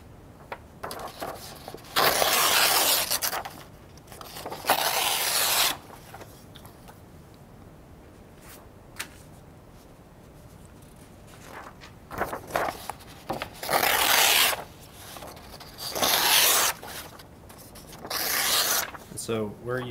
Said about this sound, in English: we're gonna begin to tear our paper into large strips or sheets